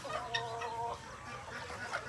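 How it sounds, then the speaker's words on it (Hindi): A rooster clucks and calls nearby in a series of short, throaty, uneven bursts, close and fairly clear against a quiet background, with no talking. "ये मुर्गा चेक करिए, है खूबसूरत माशाल्लाह जी माशाल्लाह"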